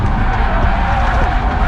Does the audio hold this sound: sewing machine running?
no